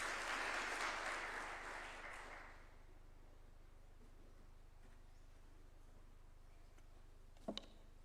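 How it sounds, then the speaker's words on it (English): Audience applause at a state event welcoming a bank chief executive to the podium, a broad wash of clapping that fades out after about two and a half seconds, followed by quiet room tone and a brief knock. "We can welcome him with a clap as well."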